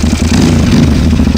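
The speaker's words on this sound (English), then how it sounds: "Alan finally got his chance to jump start the big KTM" A big KTM enduro motorcycle engine runs just after a jump start, a loud, steady, close-up mid-pitched drone with a throbbing low rumble throughout.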